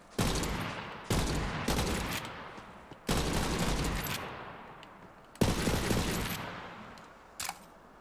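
The Hand of Glory, a legendary Jakobs assault rifle in Borderlands 3, fires in loud bursts, a single shot followed by doubles, each crack trailing off into echoing gunfire with brief gaps between volleys.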